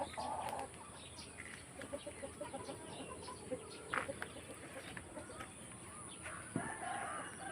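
Hens cluck softly and intermittently at a distance, with a rooster's crow rising briefly; quiet talk and an insect-like steady hum sit underneath.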